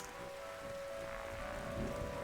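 Steady rain falls in a night scene of a video game, a soft, even hiss of drops on surfaces with a faint tonal hum beneath, continuous and fairly quiet with no talk.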